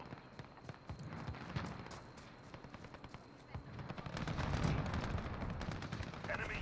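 Cluster strike explosions in Call of Duty: Modern Warfare, a rapid barrage of sharp blasts and rumbling booms mixed with gunfire, building louder and heavier toward the end of the clip.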